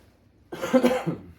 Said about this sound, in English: Sorry for my coughing.